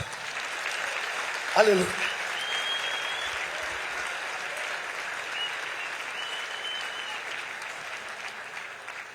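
A church congregation at a missions symposium applauds together, a dense, sustained wash of clapping that swells briefly as a voice calls out a single word, then holds evenly to the end.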